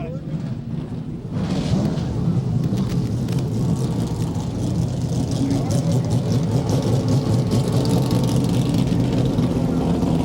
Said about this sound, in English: The field is now fired up, preparing to roll off.